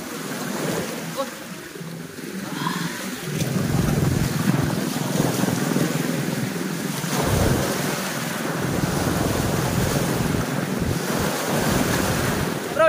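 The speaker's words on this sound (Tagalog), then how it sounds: "Mahirap talaga maghagis ng dala pagka yung malalaki yung alon. Tsaka may simoy ng hangin." Large waves surge and break at the shore during a cast-net fishing session, with strong gusty wind buffeting the microphone in a loud, continuous roar; faint voices occasionally come through beneath.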